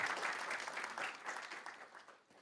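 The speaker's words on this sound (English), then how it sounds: "And now, round of applause." An audience at a hackathon final event claps in a brief, dense burst of applause that fades slightly toward the end. No voices are heard.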